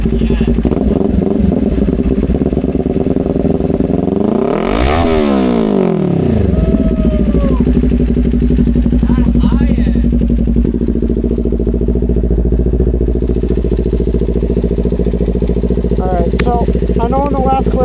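A motorcycle fitted with a new, slightly quieter exhaust rumbles loudly up close, blipping through a sharp rev and fall before settling into a steady, throbbing idle.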